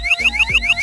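Anti-theft alarm fitted to a Royal Enfield 350x motorbike, blaring loud and close in a rapid warbling electronic siren pattern, repeating several times with no talking.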